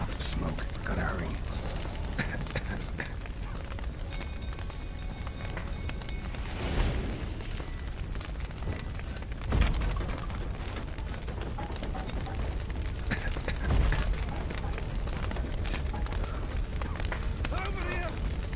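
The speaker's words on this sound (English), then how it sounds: "Roof's collapsed!" A burning stable's roof caves in during a video game, with rumbling fire, heavy crashing thuds and dull booms from debris, mixed with background game noise and voices.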